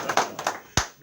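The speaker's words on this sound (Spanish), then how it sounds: "Así que vamos a darle un aplauso." A church congregation claps during a sermon, a few sharp hand claps in a brief, uneven burst, close and fairly loud.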